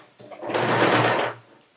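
A sewing machine runs a short top stitch along a seam on a fabric face covering, one steady whirring burst of about a second that rises and fades, close and alone.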